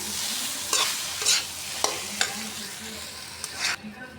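Kokola noodles cook in a pan, loud continuous frying hiss broken by several sharp stirring scrapes.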